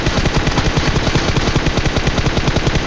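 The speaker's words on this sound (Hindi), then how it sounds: "तो मैं भी रैंडम फायर करता हूँ बहुत ज़्यादा" Automatic gunfire in the PUBG Mobile battle royale on the Erangel map, a loud, steady burst of rapid shots running throughout without any speech.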